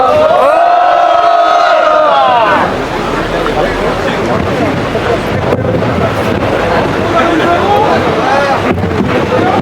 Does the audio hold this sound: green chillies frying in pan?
no